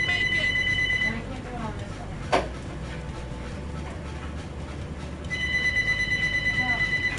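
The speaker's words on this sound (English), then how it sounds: "Phone's ringing." A phone rings in the Minecraft Story Mode video game: a steady electronic ringing tone at the start, a pause with a single click, then ringing resumes near the end over game background noise.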